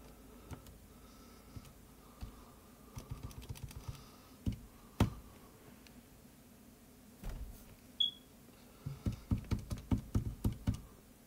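Fast bursts of button presses on a calculator, irregular clusters of sharp close taps with short pauses between runs, alone without talk.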